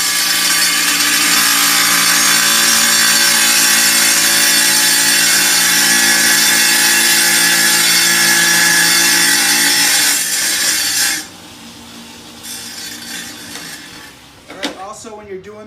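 Ryobi wet saw cutting tile, a loud steady abrasive grinding whine that runs continuously for about 11 seconds, then drops away, leaving quieter motor hum and a few clacks.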